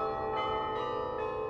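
Carillon bells of the Netherlands Carillon in Arlington, Virginia ring out in a sustained, resonant wash of overlapping tones, with fresh strikes sounding roughly every 0.4 seconds over a steady hum of lingering overtones.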